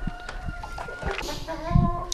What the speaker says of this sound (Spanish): están las gallinas pues como si estuvieran salvajes